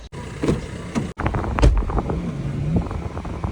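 A car pulls away and drives off at the start of a festival outing, its engine rumbling close and steady under broadband wind buffeting, with brief dropouts early on.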